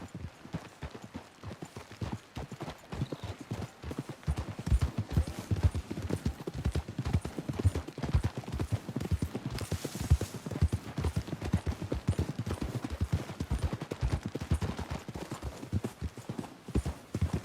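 Steady clip-clop of horse hooves trotting at a brisk, even rhythm, continuous and fairly close for the whole stretch, in the video game Red Dead Redemption 2.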